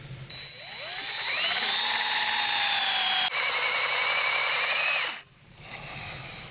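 Power drill boring into cast iron, a steady whining tone that rises as the bit bites, holds loud and close for a few seconds, then spins down and stops, with faint machine hum afterward.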